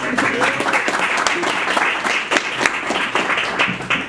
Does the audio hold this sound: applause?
yes